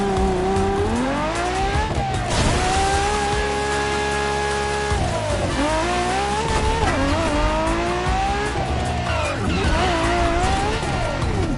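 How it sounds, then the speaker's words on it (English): A Lamborghini Murcielago in the racing game Crew Motorfest, its engine revving up and down through curves with rising and falling pitch, short gear-change dips and tire squeal, loud and close throughout. "you'll be making some curves with the Lamborghini Murcielago"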